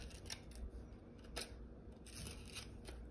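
Scissors snip around a circle of craft material to make a tire for a homemade egg carton toy car. The cuts come as a close, steady run of crisp strokes with no talking.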